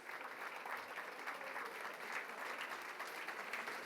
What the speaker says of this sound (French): on peut l'applaudir pour déjà la remercier